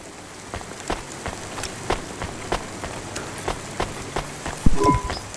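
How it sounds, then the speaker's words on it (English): Steady rain falling in the video game Cloudpunk, a continuous hiss with regular soft thumps and a brief sharper tone near the end. "Don't let all the rain get you down."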